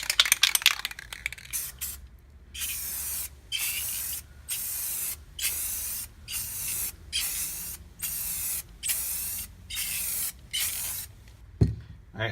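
A spray gun lays clear coat on a Polaris XCR 440 snowmobile, giving about a dozen evenly spaced hissing bursts, each a second or so long with short pauses, loud and close with no voices.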